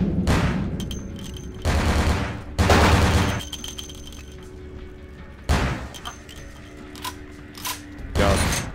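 Precision shotgun shots in the game Vampire The Masquerade: Bloodlines, several loud booming blasts spaced irregularly, each followed by mechanical reloading clacks and ratcheting, with quieter game sounds in between.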